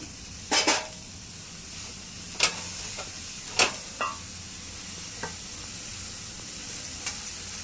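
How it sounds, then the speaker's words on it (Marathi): Coriander leaves with turmeric stirred in a hot oiled pan, a soft steady sizzle under sharp scraping strokes of a spatula at irregular intervals, close and fairly quiet, no voices. "आता छान परतून घेऊया आपण कोथिंबीर"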